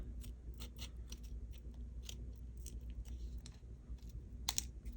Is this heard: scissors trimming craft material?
yes